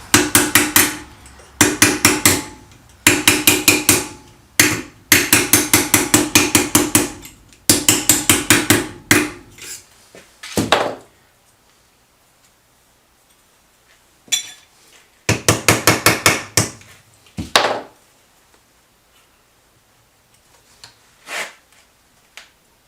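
Bursts of sharp, rapid metallic hammer blows ringing on alloy metal, from work on a BSA 250 trials motorcycle, in several clusters separated by pauses, loud and close.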